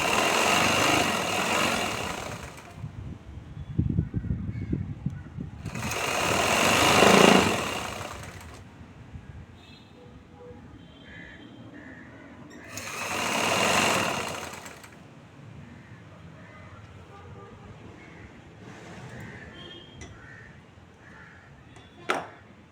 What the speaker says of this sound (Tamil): மடிப்பின் ஓரமாக தையல் போடலாம்.